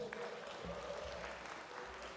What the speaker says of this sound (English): I wonder if that's the first time the words verse novel have ever been applauded in the history of civilization.